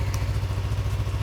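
A Yamaha motorcycle engine runs at a steady idle, a loud close-up low throb with an even pulsing rhythm throughout.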